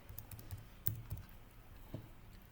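Keys clatter on a computer keyboard while a search term is entered in a software extensions panel: a handful of quiet, irregular taps, close and soft, with no talking.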